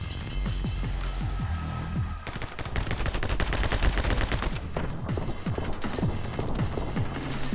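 Uzi gunfire in a video game, dense continuous rapid bursts of shots that stay loud throughout, with a brief sharper stretch of very fast firing in the middle.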